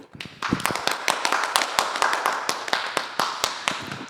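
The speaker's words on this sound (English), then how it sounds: "The men clapping for real." Sharp, steady clapping from a small group, crisp and close, with a quick even rhythm running throughout.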